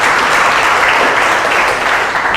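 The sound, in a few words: audience applause after a presentation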